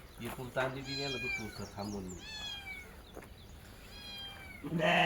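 A cat standing under goats in a village goat shed gives several plaintive meows, rising and falling in pitch at moderate distance, while a person talks over and between them.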